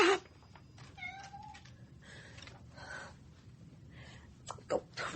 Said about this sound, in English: Bloody cat.